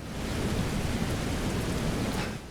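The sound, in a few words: storm with rain and thunder in Shadow Warrior 2 video game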